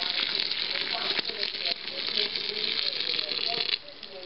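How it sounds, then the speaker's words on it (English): Boiling water is poured over a container of fresh dandelion flowers to start dandelion wine, giving a steady close hissing, bubbling rush that drops off abruptly near the end, with a voice faintly audible beneath. "I'm going to just pour the boiling water over this."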